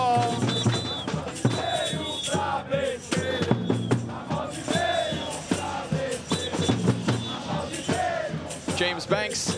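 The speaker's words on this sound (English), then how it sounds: "James Banks and the crowd giving energy to Maus" A large arena crowd at a CS:GO Major match in Rio roars and chants with rising and falling waves of cheering, while an excited commentator talks over it.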